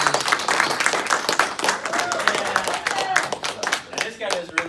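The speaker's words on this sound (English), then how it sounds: "Give him a round of applause" An audience claps for a presenter taking the stage, a dense, steady round of applause with a voice heard over it.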